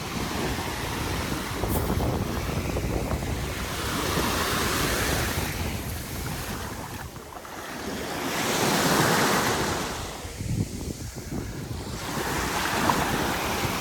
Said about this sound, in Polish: Jest ładna plaża.